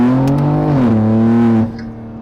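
A car fitted with a hybrid suspension kit is driven fast, making a loud, steady engine drone close by. The pitch dips briefly and then holds before the sound drops away suddenly near the end.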